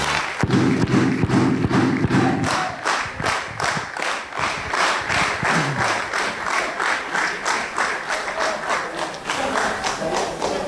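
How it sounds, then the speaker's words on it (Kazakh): Wedding guests at a Kazakh bride-farewell celebration clap together, a dense steady patter of many hands with a low booming thump early on and murmuring voices mixed in throughout. "бір шапалақ соқсаңыздар болды"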